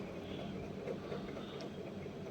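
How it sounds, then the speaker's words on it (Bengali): A low rumbling train rolls into Howrah station with a steady mechanical drone and faint clatter, heard amid station ambience. "এই যে চলো ট্রেন ঢুকছে"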